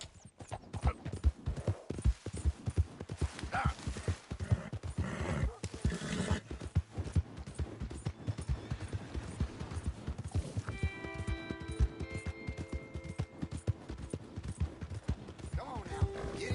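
A horse gallops in Red Dead Redemption 2, its fast, rhythmic hoofbeats running steadily throughout at moderate volume, with a whinny and game music rising later.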